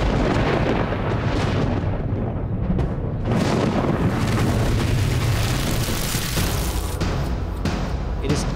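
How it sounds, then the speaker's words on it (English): Explosion in a reactor building at the Fukushima nuclear power plant in Japan, the day after a magnitude 8.9 earthquake, heard as a loud, sustained, rumbling roar that fills the whole stretch without easing. "an explosion occurs in a building housing one of the plant's reactors"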